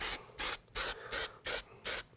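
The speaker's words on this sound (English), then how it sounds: "just spray both sides, the plastic and" 3M Super 77 spray adhesive is sprayed onto plastic and foam while trimming the lateral supports of a Ride Custom Back RCB200. Six short, close hissing bursts come in a regular on-off rhythm.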